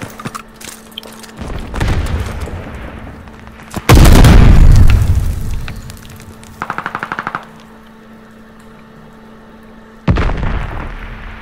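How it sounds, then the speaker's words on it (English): A satchel charge goes off in Call of Duty Vanguard as one loud, close, booming explosion that rumbles away, with short bursts of gunfire before and after it. "Throwing a satchel."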